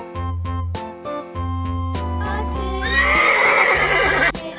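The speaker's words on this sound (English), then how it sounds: "Our first animal is a horse." A horse neighs, preceded by rhythmic clip-clop hoofbeats; the loud whinny rises and trails off near the end, close and clear, with no talking.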